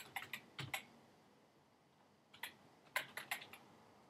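Fingers type on a computer keyboard, producing two faint clusters of quick, crisp key clicks separated by a short pause.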